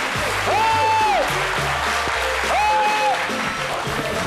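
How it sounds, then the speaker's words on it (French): Applause continues for the artist Dr Philo, a dense, steady wash of clapping mixed with music, including gliding tones and low notes, throughout. "que je vous prie de recevoir avec des applaudissements renouvelés"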